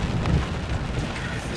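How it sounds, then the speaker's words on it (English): Heavy rain pours on a San Francisco city street on a cold Sunday morning, a dense, steady hiss close by with a low rumbling undertone and no speech. "look at this rain"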